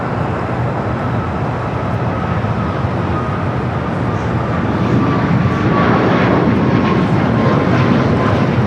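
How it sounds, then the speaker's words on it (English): A United Airlines Boeing 737 MAX 8 jet takes off from runway 25 right at Los Angeles International Airport, its engine roar loud and steady and swelling a little toward the end. "Next takeoff, 25 right, United Flight 1006. Heading to Vegas, 737 MAX 8."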